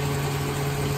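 A 1 HP water pump hums in an aquaponic greenhouse, a steady close motor drone with a constant low tone and no variation over the short stretch.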